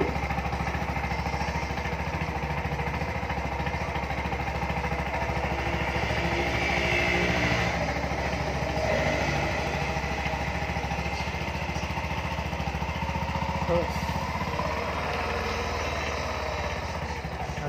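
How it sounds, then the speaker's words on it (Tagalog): A used motorcycle's engine runs steadily at idle nearby, a constant low putter with a rough mechanical buzz that holds unchanged throughout, with no voices. "So manay tingong sa ijang andar sa makina mga guys."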